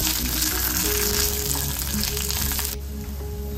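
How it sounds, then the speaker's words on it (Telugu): Green chilies fry in a pan with cumin for a dosa side dish, giving a loud, close, continuous sizzle that drops away sharply near the end. "మిర్చి కూడా ఫ్రై చేసుకోవాలి."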